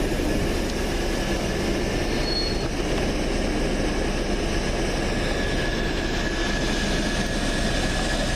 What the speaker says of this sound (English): Bit of gravity shunting there with the brake van.